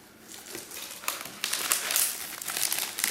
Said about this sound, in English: I've got a bit much cellophane here, but it will do the same job.